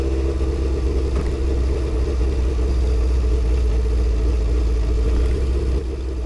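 A rebuilt old-school Honda CB750 cafe racer motorcycle drones steadily while being ridden, its engine loud and close with a constant low rumble and faint clatter and no break throughout.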